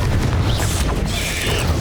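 Confringo fire spell blast in Hogwarts Legacy on Nintendo Switch, a loud booming burst with crackling high hiss rolling over constant low battle rumble, sustained throughout.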